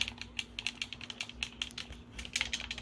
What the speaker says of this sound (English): The D-pad's really clicky